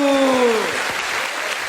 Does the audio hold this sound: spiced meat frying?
no